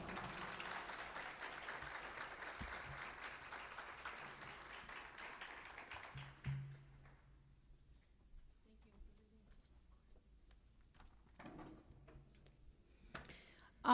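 Applause from a graduation audience honoring an academy staff member fills the first six seconds as dense, sustained clapping, then fades into a quieter hall with scattered claps and murmurs.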